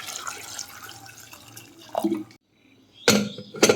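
Water poured from a vessel into a pressure cooker holding salted potatoes and papaya pieces, giving short splashing bursts near the end after a stretch of faint kitchen clatter and a brief quiet gap.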